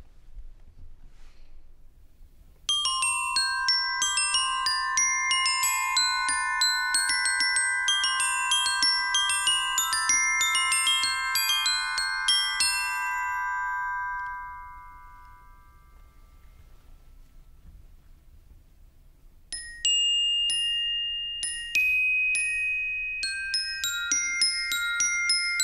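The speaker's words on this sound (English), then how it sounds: "Here are two contrasting examples of what could be played on the bells." Glockenspiel bells, steel bars struck with hard-headed mallets, ringing out bright clear melodic runs in two contrasting passages separated by a quiet pause, close and alone.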